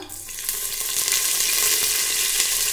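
Panch phoron spices and curry leaves hit hot oil in a home kitchen while cooking dal, a steady loud sizzle that swells quickly and holds.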